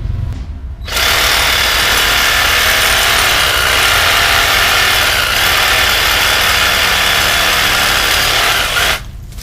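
A reciprocating saw fitted with a Diablo pruning blade cuts through a bush stem two to three inches thick in the yard, a loud, close, continuous buzzing rasp running for about eight seconds before stopping abruptly.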